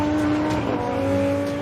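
A Lamborghini Huracán's 5.2-litre V10 engine drones at high revs with a steady buzzing tone, loud and continuous, briefly sustained without any voices.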